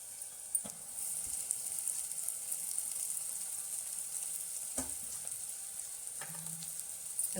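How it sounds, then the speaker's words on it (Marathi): Spices and finely chopped kevla, a wild monsoon vegetable, frying in hot oil for kevla aamti, a steady low sizzle with soft stirring clinks now and then. "मसाले चांगले तेलावर परतून घेते यातच आपण बारीक चिरलेला केवळा घालून घेऊ"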